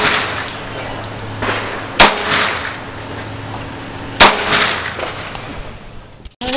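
A Sig Sauer Mosquito .22 pistol fires at zombie targets outdoors: two sharp, close shots a couple of seconds apart over a steady background hum.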